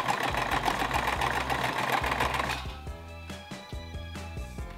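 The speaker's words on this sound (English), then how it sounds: "I'm going to go ahead and sew them together." Sewing machine stitching pinned fabric pieces together for toadstool-style stools, a steady fast mechanical chatter for most of the clip that slows into separate, spaced clicks and thumps near the end.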